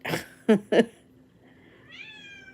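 A few short vocal bursts, then a rising, harmonic meow-like call at the end; moderately close, with quiet background.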